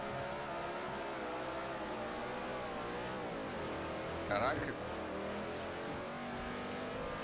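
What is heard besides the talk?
NASCAR car engine accelerating in video game Forza Motorsport 4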